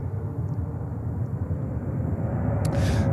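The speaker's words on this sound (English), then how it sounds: "JetBlue, taking off here to Los Angeles, California on a 321 in Neo." A JetBlue Airbus A321neo takes off from JFK Airport in New York, its engines giving a loud, steady roar with a deep rumble and no voices over it.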